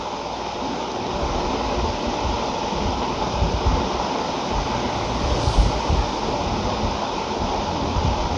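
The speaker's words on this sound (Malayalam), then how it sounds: "ഇട്ട പാത്രത്തിലേക്ക് കുറച്ച് വെള്ളമൊക്കെ ഒഴിച്ചിട്ട് കുറച്ച് വെള്ളം കൊണ്ട് ഒഴിച്ചു കൊടുക്കുകയാണ്" Water rushes into a cooking pot in a steady, continuous stream, a full gushing pour that holds evenly from start to finish.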